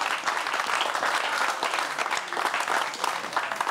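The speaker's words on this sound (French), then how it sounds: "Merci, on l'applaudit." A studio audience applauds steadily after a talk-show guest finishes, a dense, continuous clatter of many hands that stays loud and even from start to finish.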